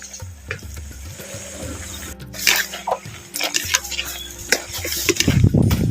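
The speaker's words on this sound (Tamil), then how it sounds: "பாருங்கள் நல்லா சவுண்டு வருதுல இந்த அளவுக்கு எண்ணெயில் நல்லா வாழைக்காயை பொறிச்சு எடுத்துக்கிறோம்" Plantain pieces fry in oil in a pan, a steady crackling sizzle with clinks and stirring scrapes of a utensil against the pan, growing busier toward the end.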